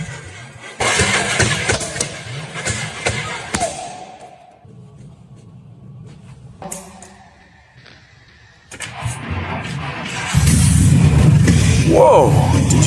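A restored military jeep's engine cranks and fires up, then runs with a loud, rough idle that strengthens toward the end, with people talking and exclaiming around it.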